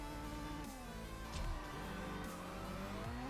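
Racing game engines rev hard as a CSR Racing 2 drag race launches, steady loud motor drone with rising and falling pitch sweeps as gears shift, no talk.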